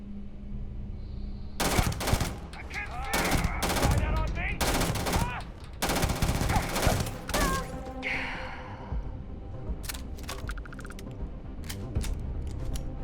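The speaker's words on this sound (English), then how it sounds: "The minute I pull this trigger, this place is gonna light up. So I think I shoot the one facing me first." Gunfire in the video game Starfield, loud bursts of rapid shots in several clusters separated by short gaps, with a faint voice and other game sounds between volleys.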